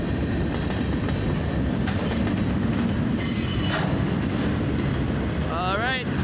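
A CFE mixed freight train rumbles past eastbound up close, wheels clacking and briefly squealing on the rails in a loud, continuous roll.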